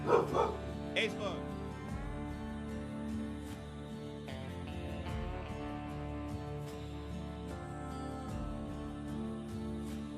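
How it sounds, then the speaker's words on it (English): A dog barks sharply at the start, then a few more yips follow under a person talking over music. "Dog keeps barking."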